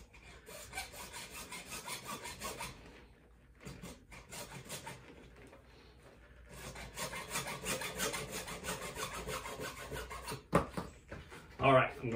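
A hacksaw cuts through tubing in repeated back-and-forth rasping strokes, close and moderately loud, pausing briefly midway before resuming, with a few sharp knocks near the end.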